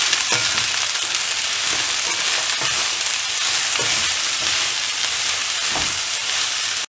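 Broccoli and spinach fry sizzles hard in a pan as it is stirred and mixed with salt, a loud close hiss broken by regular scraping strokes of the spoon.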